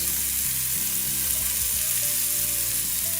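Shish kebabs sizzle steadily in a hot pan, a loud continuous crackle of frying with faint low clinks underneath and no talking.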